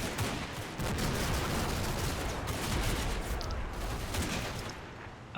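Rifle gunfire in the video game Combat Mission, a dense, continuous crackle of overlapping shots at steady loudness throughout.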